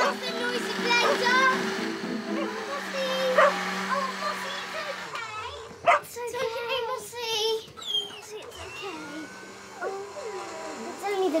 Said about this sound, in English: it makes Mossy bark! Mossy never likes the noisy blender